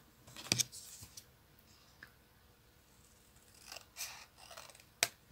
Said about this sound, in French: il va falloir que je redécoupe un peu mon numéro